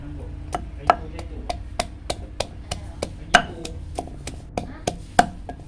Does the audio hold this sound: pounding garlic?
yes